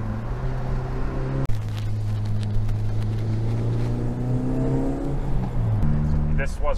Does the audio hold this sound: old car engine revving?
yes